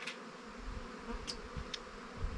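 A steady, dense buzz of many honeybees inside an overwintering hive, close and continuous, with a few brief higher-pitched flicks, no voices.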